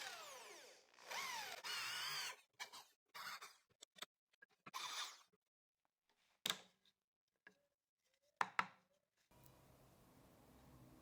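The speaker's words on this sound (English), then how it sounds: "I switched to the 25 millimeter drill bit." A power drill fitted with a 25 mm bit bores into pallet wood in several short bursts, starting and stopping with quiet gaps between runs, close and fairly loud with no voices.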